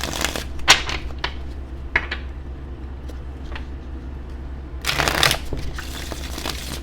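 Tarot cards are shuffled in several quick riffling bursts, close and crisp, separated by short pauses over a low steady hum.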